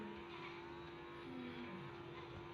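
Sustained high-pitched engine whine of a fast car in a racing video game, holding a steady tone at full revs without pause, fairly quiet overall and with no one talking.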